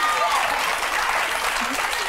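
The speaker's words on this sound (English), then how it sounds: "Clap now." A studio audience applauds during a televised Nigerian discussion show on tenancy and rent regulation, a steady, even wash of clapping that stays loud for the whole moment, with faint voices mixed underneath.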